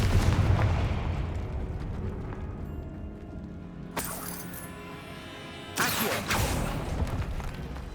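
Confringo fire blast spell cast in Hogwarts Legacy, loud explosive bursts of fiery impact with crackling debris, two sharp blasts standing out over a dense rumbling game mix.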